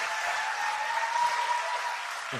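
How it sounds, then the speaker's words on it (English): Audience applause for former mayor Henry Lowe at a presidential event on reducing gun violence, a steady even wash of clapping throughout with a faint sustained tone running underneath. "I'll give him a round of applause."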